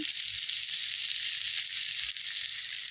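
Vegetables frying in a pan for chowmein give a loud, steady hiss and crackle of sizzling oil up close, continuous throughout with no talk.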